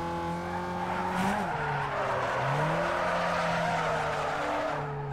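A car power-slides through a drift in Need for Speed Underground 2, its engine droning steadily with rising and falling pitch and tires squealing continuously throughout.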